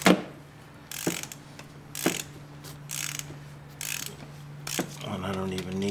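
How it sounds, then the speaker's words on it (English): Extendable ratchet working a bolt loose on a 2021 Honda Ridgeline during service, close and loud: a handful of sharp separate clicks and ratcheting bursts, then a brief metallic whir, over a steady low hum. "I'm going to use my extendable ratchet to get more torque."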